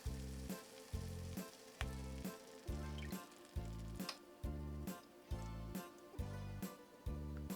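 Onion and garlic sizzle in melted butter in a pan, a soft, continuous hiss of frying, with a regular pulsing rhythm throbbing underneath, quiet and steady throughout.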